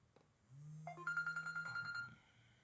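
A phone ringtone from an incoming call chimes in a short melodic burst of bright, pulsing tones lasting about a second and a half, fairly faint and heard alone without talk.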